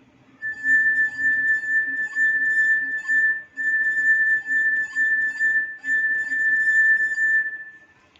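A glass partly filled with water rings with a steady, pure, sustained tone as it is rubbed, holding for several seconds with slight pulsing and a brief dip midway before fading, alone and fairly clear.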